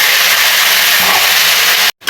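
Flat beans and potatoes drop into hot oil and sizzle: a loud, steady, bright hiss that runs nearly unbroken close to the pan, then cuts off abruptly near the end.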